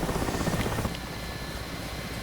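Mi-8 helicopter in the combat flight simulator DCS World, a steady loud rotor and turbine drone that thins slightly after the first second and continues without a break.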